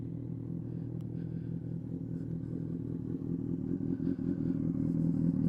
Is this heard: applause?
no